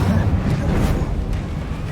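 A fire spell cast in the video game Hogwarts Legacy makes a loud, dense whooshing burst with a low rumble. It runs steadily through the whole brief moment, with the heavy thump of game combat mixed in.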